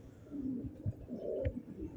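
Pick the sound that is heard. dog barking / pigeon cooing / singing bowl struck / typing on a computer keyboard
pigeon cooing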